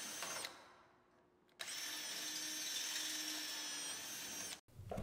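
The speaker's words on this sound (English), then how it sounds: "drill all of these holes out now to 3/16" An electric drill boring holes out to 3/16 inch in a steel gear bracket for a Super Duty truck: a short whir, a pause, then a long steady high-pitched run that cuts off abruptly, close up.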